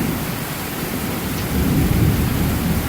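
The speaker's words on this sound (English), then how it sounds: "Oh, look at that rumble." Loud thunder rumbles through a severe thunderstorm in Newburg, Pennsylvania, a deep continuous roll over steady heavy rain, building slightly midway.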